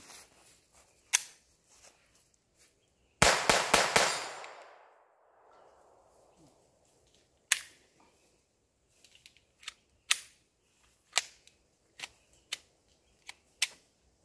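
A Taurus TX22 .22 pistol is fired in a rapid burst of sharp cracks, then a series of single, evenly spaced shots with quiet gaps between them, close and loud, with no talking.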